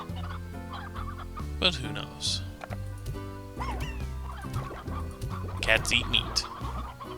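Chickens cluck repeatedly in the Slime Rancher video game, with clustered bursts of clucking over a soft musical background while someone talks.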